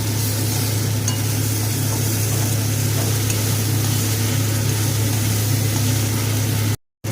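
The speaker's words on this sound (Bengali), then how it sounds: "একসাথে একটা মিহি পেস্ট বানিয়ে মশলাটাকে কষিয়ে নিচ্ছি" A spice paste of onion, garlic, ginger, cashew, small tomato and green chilli fries loudly in a pan for a fish curry, giving a steady, dense sizzle that cuts off abruptly near the end.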